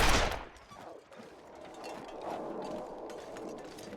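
A single rifle shot in The Long Dark cracks loudly at the very start, then a long rolling echo fades away across open ground.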